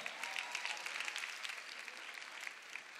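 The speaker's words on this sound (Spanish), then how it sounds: "Fuerte el aplauso." Audience applause fills a drag gala in Corralejo, a dense, steady wash of many hands clapping with no voices on top, holding at an even level from start to finish.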